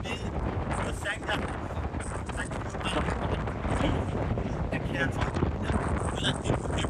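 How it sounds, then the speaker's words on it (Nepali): Wind gusts buffet the microphone with a steady, loud roar at a river confluence in Palpa, Nepal, a broad rushing noise that holds through the whole stretch and swells slightly midway. "अहिले हावा चलिरहेको छ"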